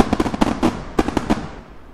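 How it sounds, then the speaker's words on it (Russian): Fireworks launched in the Roblox game Build a Boat burst in a rapid series of sharp crackling pops, bunched in two clusters over about two seconds, loud and close with no voices. "Запускаю салют!"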